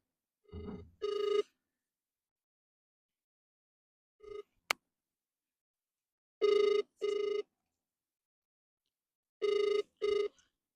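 Telephone bell rings in repeated double bursts, loud and clear, with long silent gaps between the ring pairs and a brief click in the middle; no talking.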